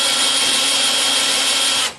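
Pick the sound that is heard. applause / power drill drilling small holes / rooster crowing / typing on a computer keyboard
power drill drilling small holes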